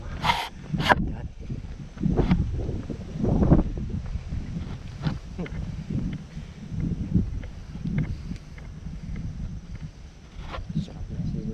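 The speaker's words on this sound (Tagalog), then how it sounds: "Sarap na simoy ng hangin." Steady outdoor breeze rushing against the microphone at a mountain view deck on Mount Parawagan, a low continuous rumble with faint voices now and then.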